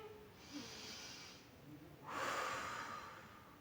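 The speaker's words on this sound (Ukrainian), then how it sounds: "Робимо вдих через носик, видих через ротик." An adult leading a morning yoga session for toddlers breathes in audibly through the nose, then out through the mouth with pursed lips: a soft airy inhale followed by a longer, louder exhale, close and alone.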